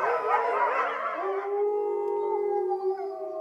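A zoo wolf pack howls at night, first a dense chorus of wavering overlapping voices, then settling into a few long, steady, clear howls held for several seconds, close and prominent.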